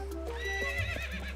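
A horse in Zelda Twilight Princess HD lets out a short neigh over clip-clopping hooves, close and clear, with no talk.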